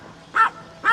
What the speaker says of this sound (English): She's barking at that little dog over there.